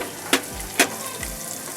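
Seven or eight cashews fry in ghee with curry leaves over a medium flame, giving a soft steady sizzle broken by two brief clattering bursts as a spoon hits the pan.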